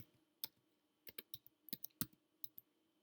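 Slow, uneven typing on a computer keyboard, a dozen or so crisp close clicks in irregular bursts against a quiet background.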